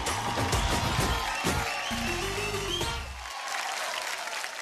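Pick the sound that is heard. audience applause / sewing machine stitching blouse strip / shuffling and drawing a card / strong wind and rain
audience applause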